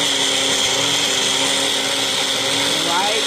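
Blender whirring as it purees bananas for peanut butter banana ice cream, a loud steady high motor whine that holds throughout, with a person talking over it.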